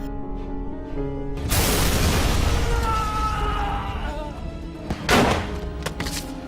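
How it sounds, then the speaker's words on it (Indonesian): A grenade blowing up a drug lab in an action film, a sudden loud blast that rolls into a long rumbling roar with debris, followed by a second sharp bang near the end. "ia juga meledakkan tempat peracikan narkoboy milik Lupo dengan granat yang sudah ia ambil sebelumnya"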